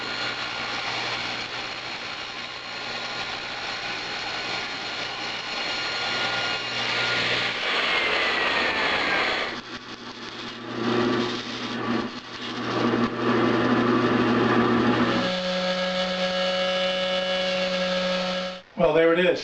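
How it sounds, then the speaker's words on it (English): A power saw blade spins and cuts through a PVC pipe section to part off a quarter-turn throttle ring, giving a loud, continuous whining drone with pitch shifts as the ring is rotated against the blade, then a final change near the end. "I'll raise my blade up so it cuts all the way through to the middle, and I will spin it around and cut my ring off."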